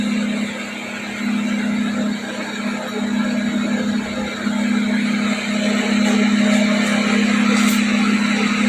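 A microwave oven, being tested after a no-power fault, runs through a 30-second timer with a steady, close electrical hum and faint whirring, alone without talk.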